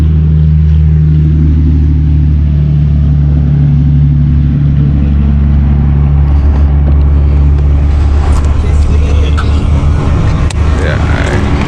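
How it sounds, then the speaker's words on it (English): A V6 Dodge Challenger engine idles with a steady low hum and drone, heard close up from outside the car, while people talk over it. "There's the engine noise right there."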